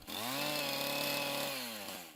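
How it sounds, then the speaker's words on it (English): A sharp chainsaw cutting into wood while carving an old tree stump into a sculpture, its engine holding a loud, steady, close whine for about two seconds before easing off slightly at the end. "Pretty much a sharp chainsaw will cut any kind of wood"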